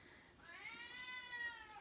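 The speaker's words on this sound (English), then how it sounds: "You can hear my cat in the background," A pet cat meows once in the background of an indoor craft session, a faint drawn-out wavering cry about a second and a half long.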